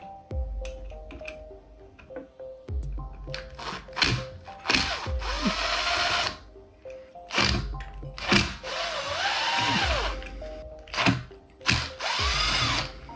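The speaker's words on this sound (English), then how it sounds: "we're gonna be taking these screws out right here. This is for the housing for the light." A power drill removes screws from a ceiling fan's light housing in several short whirring bursts, its pitch rising and falling, with ratcheting clicks and handling noise between them and no talk.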